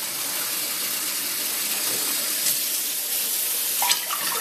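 Two glasses of water poured into a pot in a home kitchen while making millet pudding, a steady close splashing stream with a brief knock near the end.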